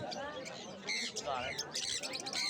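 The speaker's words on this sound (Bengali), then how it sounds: "এই ককটেল পাখিগুলো 1100 টাকা করে জোড়া যাচ্ছে" Cockatiels squawk at a bird market in Uluberia, harsh, repeated close calls in bursts over a murmur of background voices.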